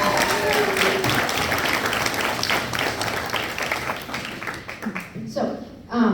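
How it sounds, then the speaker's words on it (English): High school audience at a Rock of Ages band concert applauds in a sustained, roomy roar of clapping and crowd noise, with a voice coming through near the end as the clapping eases. "you guys deserve a round of applause"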